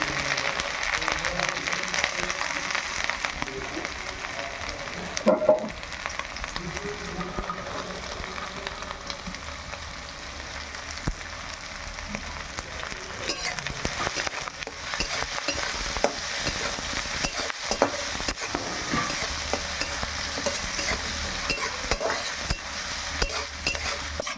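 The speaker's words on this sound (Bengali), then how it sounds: "এবার আমি সবজিগুলো ভেজে নেব প্রথমে।" Vegetables sizzle and crackle steadily in a hot pan, with occasional stirring scrapes and clinks close by.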